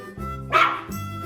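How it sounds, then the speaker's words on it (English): A single dog bark, loud and close, stands out briefly in the middle against a steady low background tone, in a simple farm-animal sound sequence for children. "A dog."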